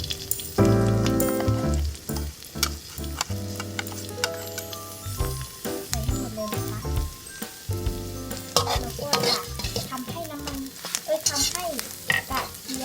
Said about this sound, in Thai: รอให้น้ำมันร้อนแล้วเราก็จะใส่ กระเทียมลงไปนะคะ